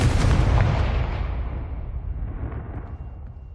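A Confringo fire spell blast in Hogwarts Legacy lands as a loud, close, booming explosion and then rumbles and fades away over several seconds.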